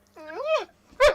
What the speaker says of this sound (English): Will you get that dog to shut up?